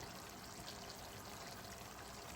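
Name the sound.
pouring water onto chicken in pot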